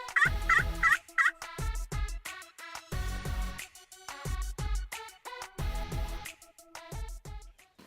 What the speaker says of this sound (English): We had this bird gobbling at crows and crows and crows